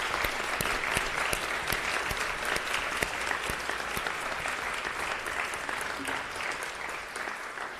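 An audience at a university opening ceremony gives steady, even applause for the incoming student cohort, a continuous sustained clapping with no voices above it.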